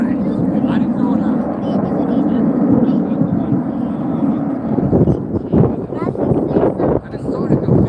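Frecce Tricolori aerobatic jets at the Rochester air show make a loud, continuous roar with wind buffeting, while an announcer speaks over the noise in the second half.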